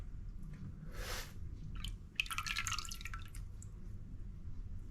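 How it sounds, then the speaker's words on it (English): Liquid is poured into melted tallow for soap, heard as a quiet hiss, then a wet, bubbly, dripping spatter over a faint background rumble, with no talk. "I'm just going to pour this in."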